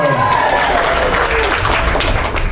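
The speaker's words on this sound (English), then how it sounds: "So let's give our animators a big round of applause." Applause from a costume contest audience at a convention, dense and steady across the clip, with some voices mixed into the clapping.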